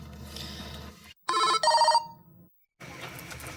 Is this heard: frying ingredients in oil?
no